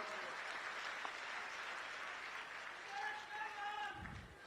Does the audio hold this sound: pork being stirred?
no